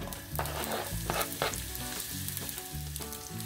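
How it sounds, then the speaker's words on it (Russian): Onion frying in oil in a pan: steady sizzling with a few scraping stirs, close and fairly quiet, no voices. "будем на масле обжаривать лук."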